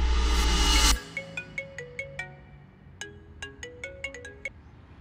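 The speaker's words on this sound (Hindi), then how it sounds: "अब वो वीडियो कॉल करेगा" A phone rings with an incoming video call in a Hindi-dubbed South Indian action film, a repeating melodic electronic ringtone of bright chiming notes that plays in two clear bursts after a short loud thud, with no talking over it.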